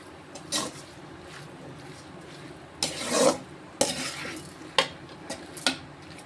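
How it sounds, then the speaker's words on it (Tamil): A utensil scrapes and stirs chapathi noodles in a pan with soy sauce, giving soft rasping strokes and a few sharper scrapes against a quiet background, with faint sizzling. "இப்போ இதை எல்லாமே சேர்த்து காயில் படுற மாதிரி கிண்டி விட்டுக்குறோம்."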